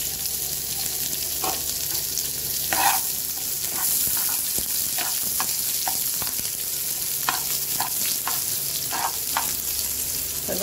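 Chopped onions and chillies fry in a pan for a prawn curry, giving a steady, close sizzle with occasional stirring clinks and scrapes throughout, and no voices.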